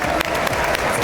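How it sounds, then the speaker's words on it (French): An audience at a Japanese-themed sports event applauds loudly and steadily, a dense wash of clapping hands that fills the whole brief moment, close and continuous. "Je peux avoir un tonnerre d'applaudissements pour notre grand japonais, Maya Geika, s'il vous plaît."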